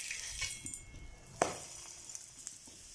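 A cauliflower paratha fries in oil on low gas with a soft, continuous sizzle, broken by a sharp clink near the middle and a few faint taps afterward.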